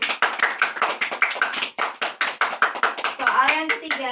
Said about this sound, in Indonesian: Tepuk tangan buat kelompoknya Afif